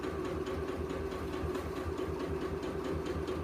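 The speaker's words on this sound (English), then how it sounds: "And then I'm going to start sewing around again." A sewing machine stitches around fabric, giving a steady, continuous mechanical whir with a rapid rhythmic chatter from the needle, close up and running without pause.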